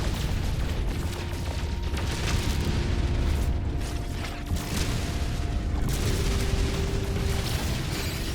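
Rocket fire and explosions in the space game No Man's Sky, heard as a dense, loud wash of blasts and mechanical rumbling that continues without a break, with faint tonal hums running underneath.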